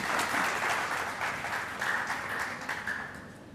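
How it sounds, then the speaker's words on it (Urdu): An audience at an Urdu poetry gathering breaks into steady, full applause that holds for several seconds and then slowly thins, with no talk. "میں آپ لوگوں سے درخواست کروں گی کہ شاداب الفت صاحب کی ان کوششوں کا اپنی بھرپور تالیوں سے"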